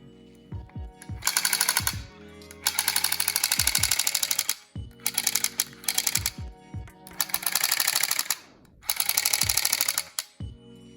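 The force feedback mechanism inside an Arcade1up Terminator 2 light gun fires in rapid, loud rattling bursts of clicks, close up. Five bursts are separated by short gaps and punctuated by individual mechanical clacks.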